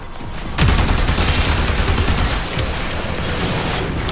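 Rapid armor-piercing high explosive incendiary gunfire in the sci-fi game Warframe, a loud continuous stream of sharp cannon rounds and impact bursts starting abruptly and rattling steadily for several seconds.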